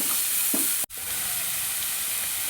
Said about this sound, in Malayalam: സവാള ഉള്ളി പച്ചമുളക് വെളുത്തുള്ളി ഇഞ്ചി ചെറുതായിട്ടൊന്ന് പഴരും